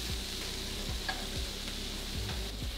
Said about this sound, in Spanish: en un sartén a temperatura media, ya con un poco de aceite caliente, vamos a poner a guisar los pimentones